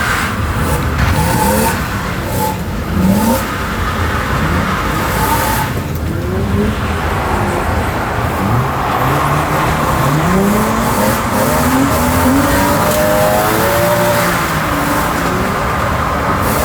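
A car drifting on a first attempt throws out long, wavering tire squeals over a steady roaring engine, loud and close, with repeated slides rising and falling across the run and almost no talk.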